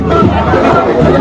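A crowd at a victory celebration procession shouts and cheers in a loud, close, continuous roar of overlapping voices.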